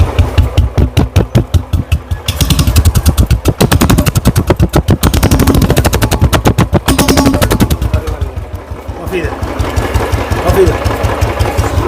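A Royal Enfield motorcycle with a modified silencer thumps loud and close, its throttle blipped in rapid bursts of rattling exhaust pops before settling into a steady idle thump.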